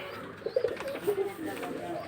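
Pigeons cooing in short soft bursts, a few low murmuring calls spread over a couple of seconds against steady background noise.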